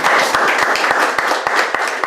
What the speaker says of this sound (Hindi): हम विष्णु ब्रदर के लिए भी ताली बजाएंगे